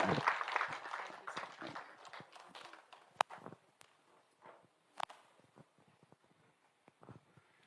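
A burst of applause fades quickly into scattered claps and a few sharp knocks, with faint background noise from a room.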